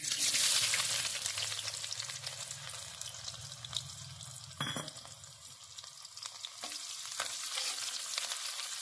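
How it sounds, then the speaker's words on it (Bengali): Chopped onion fries in oil with mustard seeds, green chillies and dried red chillies, hissing in a steady sizzle, with occasional clinks and stirring strokes from a spatula, heard close up without any voice. "মিডিয়াম ফ্লেমে পেঁয়াজটাকে মিনিট 2 একটু ভেজে নেব সর্ষে আর কাঁচা লঙ্কা শুকনো লঙ্কার সঙ্গে"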